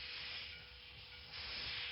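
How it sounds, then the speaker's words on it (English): A steam engine train passes outside, giving a continuous broad hiss of steam that dips and then swells again. It sounds faint and distant and comes through alone. "There's a steam engine outside."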